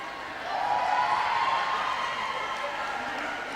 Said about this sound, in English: Big cheers in the crowds.